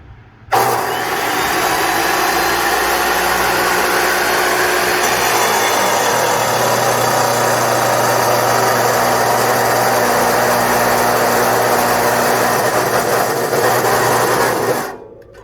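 A power cutting tool spins up and runs at full RPM through metal while making a removable jon boat grab bar, a loud steady high-pitched whine sustained for about fourteen seconds before cutting off.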